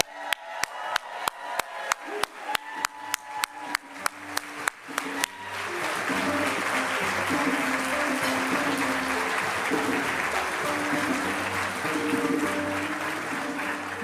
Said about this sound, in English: Let's clap our hands for Erika Bernal Martinez.